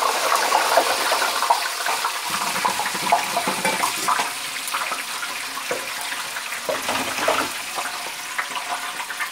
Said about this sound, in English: into the fryer my donuts go